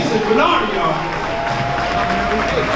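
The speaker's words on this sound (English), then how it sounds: "Come on, clap it up for my man, Jason Bernardi, y'all." Applause and cheering from a gala audience at a Morgan State University event, steady crowd clapping with voices mixed in throughout, moderately loud and close.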